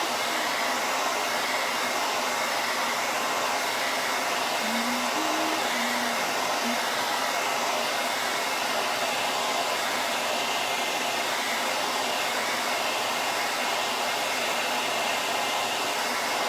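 A hair dryer dries paint on a painted door hanger, blowing with a loud, steady, unbroken whoosh for the whole span with no talk.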